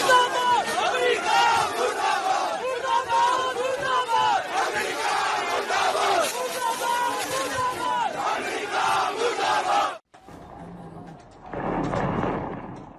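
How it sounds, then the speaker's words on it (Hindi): Crowd of protesters in Lahore shouting and chanting slogans in support of Khamenei, dense and loud throughout, then breaking off abruptly before a shorter, quieter swell of voices. "नारे लगाए गए।"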